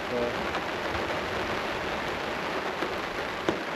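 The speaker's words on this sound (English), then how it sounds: "wasn't expecting the rain this evening" Evening rain at a solo wilderness campsite on Stuart Lake in the Boundary Waters makes a steady, soft hiss of falling drops, with a few louder drips standing out near the end.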